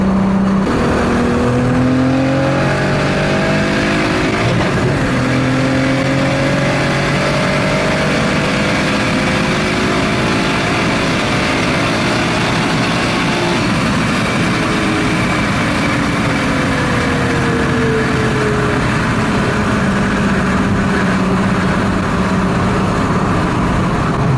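A 515 hp Audi A3 3.2T with a slipping gearbox revs hard to the limiter in fifth gear. The loud engine note climbs and wavers steadily over about 24 seconds, with no talk over it.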